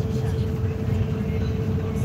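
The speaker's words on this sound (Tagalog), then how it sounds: "Traffic." Road traffic in a busy city district, a dense, steady low rumble of engines that fills the clip without pause, moderately loud, with no clear voices over it.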